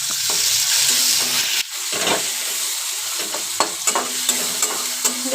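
Onion and tomato fry in a pan for a chowlikaayi palya, a steady bright sizzle running throughout with scraping stirs and light clicks of a spatula, close and fairly loud, no voices.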